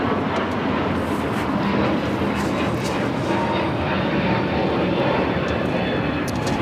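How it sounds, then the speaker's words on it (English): A United Airlines A321neo jet takes off, a loud, steady engine roar holding close and continuous throughout. "This is United Airlines 1260 taking off to Denver on the A321neo"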